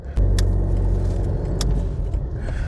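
Heavy low rumble and vibration inside a moving car, with a couple of sharp rattling clicks over the steady drone.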